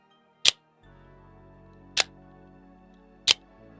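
Three sharp, crisp metallic clicks sound at steady intervals, close and loud, like a knife's action snapping, with a faint hum between them.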